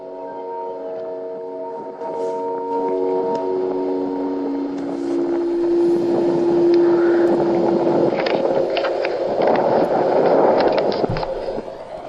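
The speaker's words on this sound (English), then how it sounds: "This trumpet sound" A sustained brassy, trumpet-like hum holds steady tones over loud outdoor wind rumble, then fades into broad noise.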